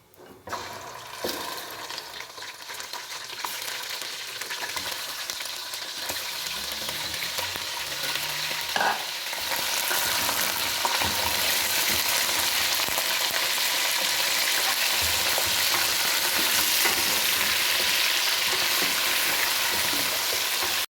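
About 800 grams of chicken frying with spices for a korma, a steady loud sizzle and hiss throughout with occasional stirring scrapes, no voices.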